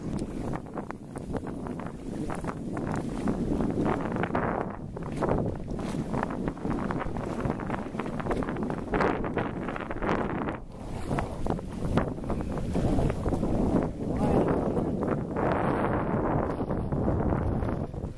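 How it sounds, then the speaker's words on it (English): Wooden sailing ship underway with the ensign flapping against the mizzen sail, heard as a steady roar of wind and water with irregular fluttering gusts, continuous and loud, with no talking. "The ensign flutters against the mizzen sail."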